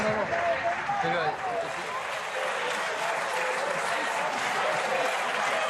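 Applause in the French National Assembly chamber during a pension reform debate, a sustained patter of many hands filling the hall, with a voice briefly heard over it at the start.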